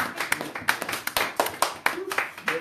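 A church congregation claps in quick, rhythmic unison, sharp close hand claps repeating steadily for a few seconds.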